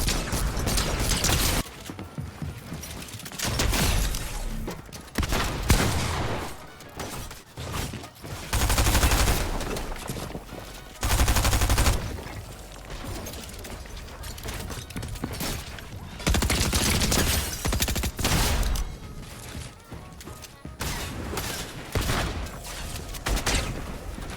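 Bursts of gunfire from a Fortnite match, including shotgun blasts, come in dense clusters of rapid shots and heavy booms separated by brief lulls, loud and up front.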